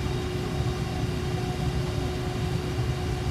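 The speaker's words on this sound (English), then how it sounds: "We're doing a fast-paced taxi so we can get in the air." A steady, droning engine hum with a constant low rumble and faint tonal whine, unbroken and even throughout.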